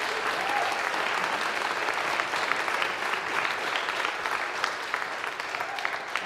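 Steady applause from a sizable town hall crowd in Nashua, New Hampshire, dense and sustained clapping throughout, fairly loud and close.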